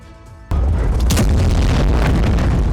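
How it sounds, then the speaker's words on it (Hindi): A heavy explosion from Israeli bombing in Gaza erupts abruptly after a quiet moment, a single loud deep boom followed by a sustained roaring rumble. "गाजा में इजराइल की ओर से की जा रही भीषण बमबारी"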